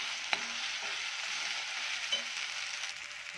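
Onion, tomato, turmeric and red chilli powder being stirred in a pan, a soft continuous sizzling hiss with a couple of light utensil taps against the pan.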